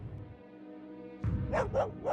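Stray dogs bark in a short series of three sharp barks after a low rumbling background, fairly close and loud.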